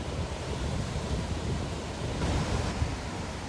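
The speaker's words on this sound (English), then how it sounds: "It's really windy" Strong wind buffets the microphone at an outdoor stealth camping spot, a broad, steady roaring rush with gusty swells and no voices.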